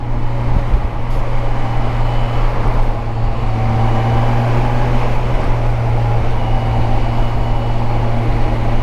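A Kawasaki Versys 1000 with its 1,044 cc liter-class engine drones steadily while riding, a constant, even hum with smooth harmonic tones and rushing wind, no voices.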